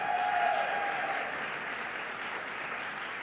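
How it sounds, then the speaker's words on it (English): Audience applause for state legislators at an announcement event in a New York City community center, a dense, even wash of clapping that holds steady and slowly eases, heard from a distance with no voices. "Let's give them a round of applause."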